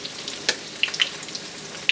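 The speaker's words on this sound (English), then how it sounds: "looks like they're frying pretty quickly" Gluten-free, dairy-free onion rings fry in hot oil with a steady, even sizzle broken by a few sharp, close pops and crackles.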